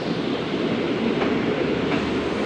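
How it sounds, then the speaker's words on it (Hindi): The Shalimar Express departs Bahawalpur station with a steady, loud rumble of rolling rail cars, a continuous wash of noise heard nearby. "शालीमार एक्सप्रेस रवाना हो गई भावलपुर से"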